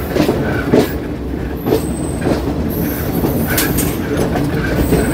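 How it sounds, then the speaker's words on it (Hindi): The Yamuna Express train rumbles past close by with a loud, continuous roar of wheels on rails, rhythmic clatter and brief squeals, heard alone without talk. "ये आई यमुना एक्सप्रेस।"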